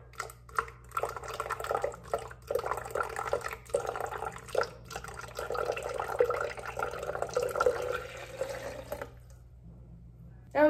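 Hot water pours and splashes in uneven gushes for several seconds, close by, then stops abruptly; no clear speech.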